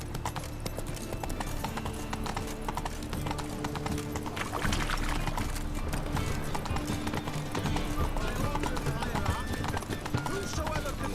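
Hoofbeats of the horse Roach galloping in the video game The Witcher 3, a steady clip-clop rhythm under continuous game music and ambience, with an occasional whinny and speech over the top.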